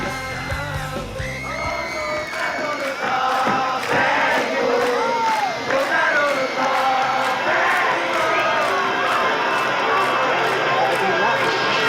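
A concert crowd at a show sings a song together without any instrumental backing, a loud mass of voices with yells and cheers rising over it, continuous throughout.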